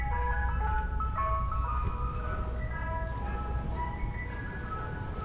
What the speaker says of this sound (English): It's a Mr. Softy truck.